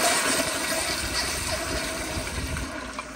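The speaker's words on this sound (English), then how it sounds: "So here's another flush." A 2009 elongated Gilpin pressure-assist toilet with a Proflo flushing system gives a forceful, rushing flush, a loud broadband surge of water that gradually eases over about three seconds, with no talking.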